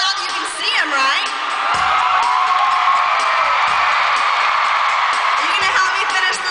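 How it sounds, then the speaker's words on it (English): A concert crowd at a show yells and whoops loudly and continuously, with piercing cheers rising over a dense roar of voices. "They're yelling really loud."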